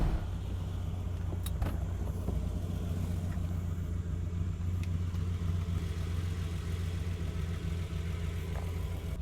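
A vintage Ferrari engine runs at a steady low rumble from inside the car, continuous and fairly close, with a few faint clicks and knocks over the drone, no talking.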